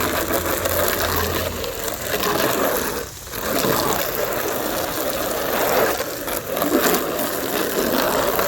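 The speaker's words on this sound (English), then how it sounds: "Alright, I grabbed the water hose. I'm gonna rinse out the pool." A garden water hose rinsing out a backyard birds' pool, a continuous loud rushing spray hitting the basin up close, with fluctuating splashing and a brief dip in the flow.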